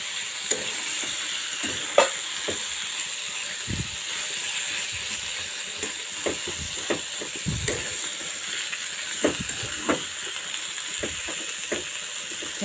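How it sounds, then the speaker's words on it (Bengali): Chicken butter keema frying in a pan while being stirred, a steady sizzle and hiss throughout with repeated scraping strokes of a spoon, close and moderately loud, no talking. "এবং আবারও ভালোভাবে নাড়িয়ে দিতে হবে।"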